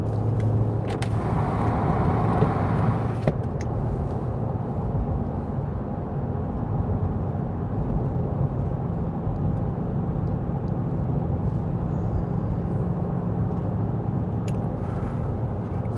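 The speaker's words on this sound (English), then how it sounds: "Why does that car sound like a motorcycle?" A car engine drones steadily nearby with a rough, throaty rumble, holding a constant level throughout.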